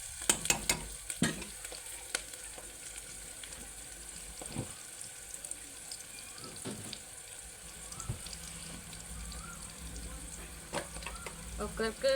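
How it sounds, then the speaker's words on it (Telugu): Mutton curry fries in a pan with a steady, soft sizzle throughout, broken by occasional scraping stirs and light clinks, with some background noise and faint voices. "ఇంకా వేగాలండి ఎర్రగా"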